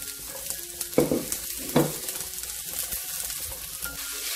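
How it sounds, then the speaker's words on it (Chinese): Onions are stir-fried in a pan, giving a steady sizzle with two louder scraping stirs near the start and light clatter, close by and with no talk. "先炒一炒呢个洋葱"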